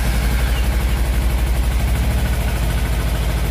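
A Kawasaki Versys X 250 motorcycle engine idles after being started following a 10,000 km service, giving a loud, close, steady low rhythmic putter that holds evenly throughout with no talking.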